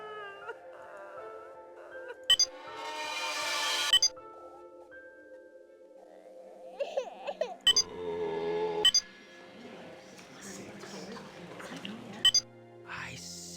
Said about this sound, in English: Spooky sound effect.